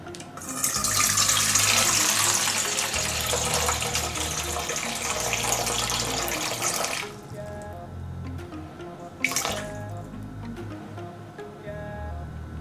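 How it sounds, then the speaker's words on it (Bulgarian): Water pours steadily into a mixing bowl set on a kitchen scale for rye and einkorn sourdough bread, a loud continuous gush for about seven seconds, then quieter trickles and one sharp splash. "наливаме в нея 400 грама вода"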